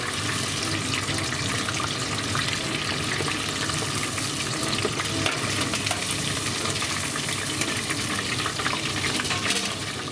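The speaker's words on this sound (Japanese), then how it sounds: "ちょっと残りも揚げていきます" Shrimp deep-fry in hot oil at about 170 degrees with a dense, continuous bubbling sizzle that stays close, loud and unbroken throughout.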